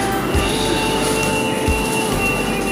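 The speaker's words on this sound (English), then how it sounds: "This is the morning atmosphere in the train." Inside a moving commuter train in Sydney on a morning run, a steady loud rumble and hum fill the carriage, with two soft wheel clunks passing over rail joints.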